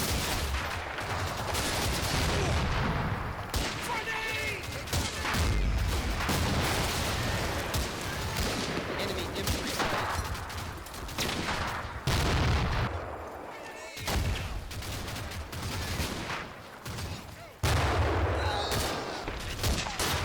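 Dense bursts of semi-automatic and automatic weapons fire crackle and rattle almost without pause in close-quarters fighting against Italian defenders in the war game Combat Mission: Fortress Italy, with heavier booms mixed into the loud, continuous barrage.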